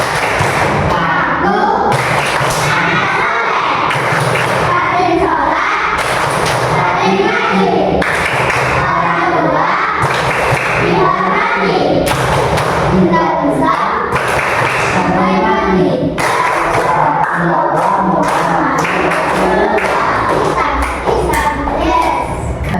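Classroom of children doing a rhythmic group clap chant, sharp bursts of unison clapping in patterned beats alternating with young voices chanting along, loud and close throughout.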